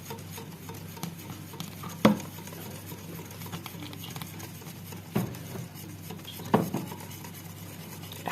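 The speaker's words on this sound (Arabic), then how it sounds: "هنضيفها بقى على الدقيق والكاكاو والبودر بالشكل ده، وابدا اضربهم كده" Chocolate cake batter of flour, cocoa and liquid ingredients being beaten in a bowl, a soft continuous patter and swish with a few light clinks of the utensil against the bowl, close and quiet.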